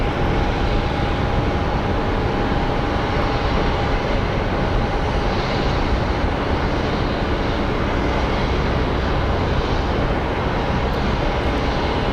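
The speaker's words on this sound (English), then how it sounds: "These United planes tend to use up a lot of the runway here at Sky Harbor." A United airliner roars along the runway at Phoenix Sky Harbor airport, its jet engines giving a loud, steady, broadband rush that fills the whole stretch without pause.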